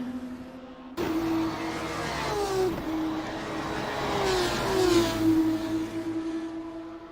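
2018 F2 race cars in the Assetto Corsa video game at the Italian Grand Prix, engines snapping in loudly and holding a high steady whine down the start-finish straight, with pitch shifts as cars pass and gear changes.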